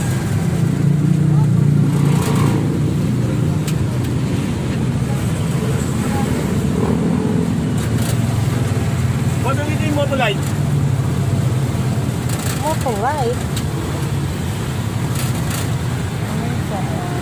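Heavy road traffic rumbles steadily around the listener, with engine drone, distant horns and passing vehicles throughout.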